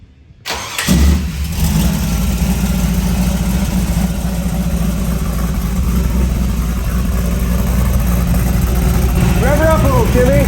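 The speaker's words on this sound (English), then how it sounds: "Hey, Timmy, does this thing fire up?" A classic muscle car engine cranks and fires up, then settles into a loud, deep, lumpy idle that rumbles steadily close by, with a voice speaking briefly near the end.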